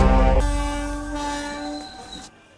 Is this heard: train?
yes